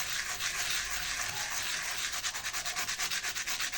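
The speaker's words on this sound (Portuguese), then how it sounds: "Aqui no meio preciso lixar bastante" Hand sanding across a ceramic clay piece, a close, loud, dry abrasive rasp that settles into quick, regular back-and-forth strokes toward the end, with no voices.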